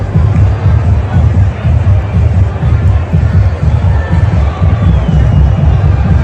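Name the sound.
crowd at Trump rally in Butler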